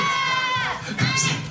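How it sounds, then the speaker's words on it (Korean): Fans at a fansign event let out a brief, rising cheer and scattered shouts that swell toward the end, following a sustained sung or spoken tone from a voice up front. "여러분 환호하셔도 돼요."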